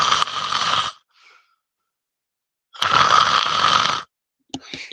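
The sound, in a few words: person imitating snoring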